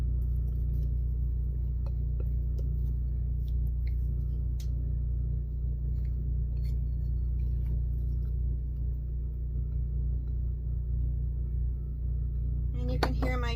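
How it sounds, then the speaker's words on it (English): A steady low engine drone runs throughout, like a generator humming in the background, constant and unchanging. "you can hear my generator running in the background there"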